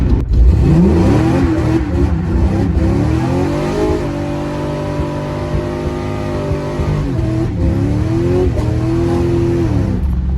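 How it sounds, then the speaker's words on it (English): A car after a session of burnouts, driven home with a fault that makes it smell of antifreeze. The engine revs up loudly at the start, then settles into a steady drone that rises and falls through the gears, heard from close by with no talking. "I'm gonna go ahead and drive home here"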